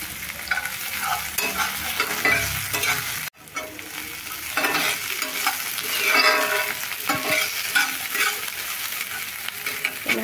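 Cashews fry in hot oil in a pan for poha with a constant crackling sizzle, broken by spatula scrapes and stirring. A brief drop in the sound comes early, then the frying continues close and loud.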